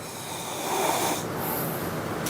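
A person imitates snoring with a steady, rasping throaty rattle that holds for about two seconds and sounds close and fairly loud, with no talk over it.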